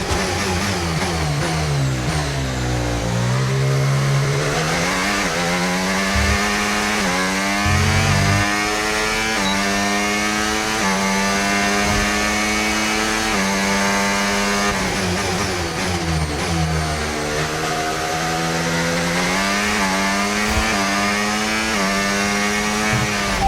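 Formula 1 car engine in the F1 25 racing game, revving loud and continuous with rising and falling pitch sweeps through gear changes, alone without speech.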